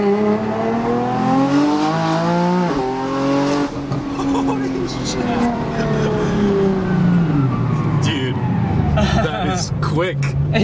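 A 1300 hp Nissan GT-R with traction control off accelerates hard, its engine pitch climbing loudly through gears with rising whine and roar, while people talk over the noise inside the car.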